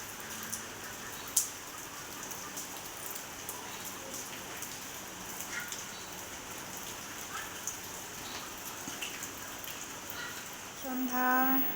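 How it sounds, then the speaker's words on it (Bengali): Light drizzling rain falling outdoors, a faint, even hiss with occasional soft drop sounds and a brief louder tap early on, ending with a short rise of other sound. "টিপটিপ করে বৃষ্টি পড়ছে"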